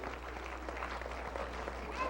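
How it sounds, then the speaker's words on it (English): An audience applauds at a 1992 Sesame Street show, a steady wash of clapping that runs for about two seconds at moderate distance with no voice over it. "Big round of applause for Vince and Larry."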